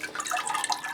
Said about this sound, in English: the subsequent pouring of the water washes it through into the bowl